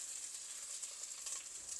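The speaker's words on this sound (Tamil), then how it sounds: "பச்சை மிளகாய் இதெல்லாம் நல்லா வதங்கட்டும்." Shallots, garlic, curry leaves and green chilies sauté in a pan with a faint, steady sizzle and light crackle, heard close but quiet with no talking.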